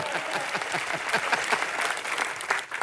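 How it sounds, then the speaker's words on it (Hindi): Studio audience applause on a comedy talk show set, a dense burst of many hands clapping at once, loud and sustained for a few seconds before it starts to thin. "तालियां"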